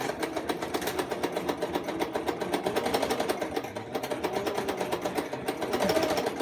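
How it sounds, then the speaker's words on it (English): A sewing machine back-stitching a skirt hem runs with a fast, even mechanical whir and rapid needle ticking, close and steady, speeding up slightly near the end. "I'm going to back stitch."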